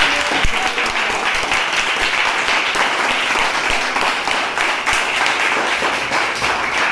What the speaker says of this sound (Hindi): खड़े होकर के जोरदार तालियां बजाना, इसको कहते हैं स्टैंडिंग ओवेशन